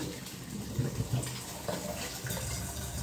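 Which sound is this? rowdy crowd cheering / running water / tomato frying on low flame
running water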